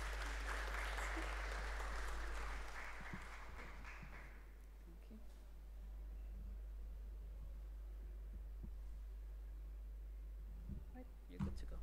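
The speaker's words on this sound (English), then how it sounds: "Can we give Matilda a round of applause?" An audience at a women's innovation and digital skills event claps for the first speaker, a short burst of applause fading after a few seconds over a steady low hum in a quiet hall.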